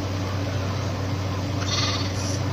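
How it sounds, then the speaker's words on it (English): A sheep in the Minecraft video game bleats clearly and close over a steady low in-game hum, with no talking. "I'm sorry, I'm killing almost all these sheeps."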